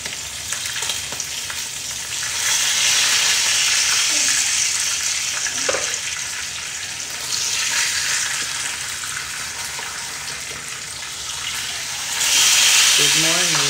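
Pork steak frying in a pan, a steady loud sizzle that swells and eases throughout, with faint stirring and kitchen clatter, while people talk quietly in the background.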